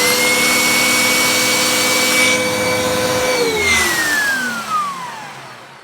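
A Kenmore Progressive bagless upright vacuum cleaner with its Pet Handymate attachment runs with a loud, steady whine, then powers down, its motor pitch sliding lower as it spins to a stop.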